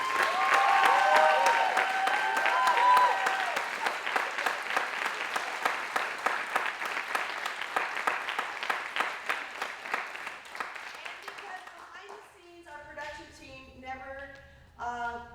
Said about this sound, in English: if we could give a rousing round of applause to Scott Camden